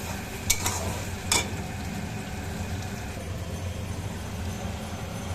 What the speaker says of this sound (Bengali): এখন পেঁয়াজটা ভালো করে ফ্রাই করে নিই, নাহলে কাঁচা গন্ধ থাকবে